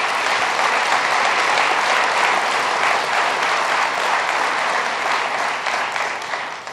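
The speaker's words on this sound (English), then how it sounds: "Let's give them a round of applause." An audience at a summit on harmful algal blooms in the Hudson Valley applauds, a steady, dense clapping that holds at full strength and then eases slightly toward the end.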